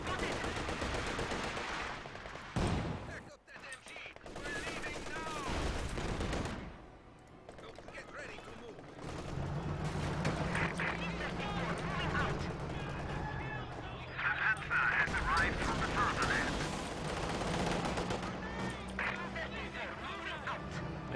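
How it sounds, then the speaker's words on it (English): Gunfire from a Company of Heroes 2 World War II battle, with bursts of automatic weapon and machine-gun fire crackling through a dense mix of combat noise, while a voice talks over the action. "Enemy machine gun ready!"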